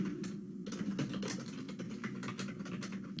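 Someone types a C program on a computer keyboard, a quiet run of irregular key clicks and taps with a brief pause near the start.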